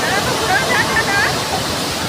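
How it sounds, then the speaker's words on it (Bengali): Usri Falls pours in a dense, steady rush of falling water, a loud broadband roar close by, with a faint voice murmuring beneath it. "এটা হচ্ছে উশ্রী ফলস"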